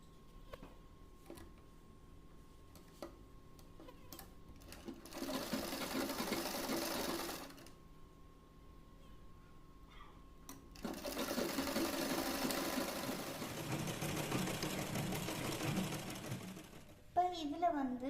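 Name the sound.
sewing machine stitching fabric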